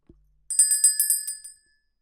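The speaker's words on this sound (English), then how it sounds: "We're going to ring the bell." A small bright bell rings in a quick series of about eight rapid strikes, then rings out briefly into silence.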